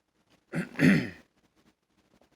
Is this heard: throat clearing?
yes